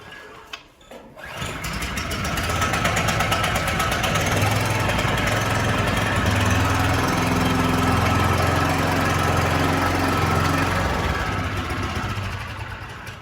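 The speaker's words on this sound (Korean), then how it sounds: "우선 시동을 걸겠습니다." An onion transplanter's engine cranks and catches about a second in, then keeps running at a steady, loud, even idle for the rest of the clip with no talking.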